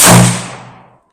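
A single loud gunshot from a bolt-action Mosin-Nagant military surplus rifle fired downrange outdoors, a sharp close crack decaying over about a second with no talk.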